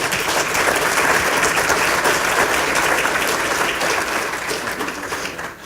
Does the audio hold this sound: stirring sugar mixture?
no